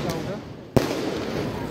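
A single sharp firework or firecracker bang goes off at New Year celebrations near a temple, loud and sudden against a steady background hum of people and ambient noise.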